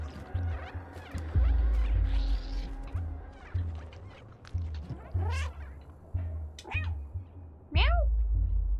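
Cat meows from the video game Stray, several rising, wavering calls spaced out over a low rumbling background, with a person's voice around them.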